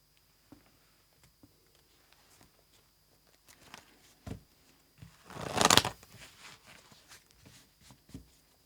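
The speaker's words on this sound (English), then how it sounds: "I'm going to pull one more card for envy" Tarot cards being handled: soft scattered taps, then a brief riffling shuffle of the deck, followed by a few quieter card pulls.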